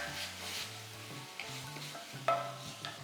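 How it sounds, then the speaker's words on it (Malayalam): Ground paste for drumstick mappas sautés in a pan, giving a soft, close sizzle broken by scraping stirs and a few sharp metallic clinks of the spoon against the pan. "ഈ അരച്ച് വെച്ച മിക്സർ നന്നായിട്ടൊന്ന് വഴറ്റുക."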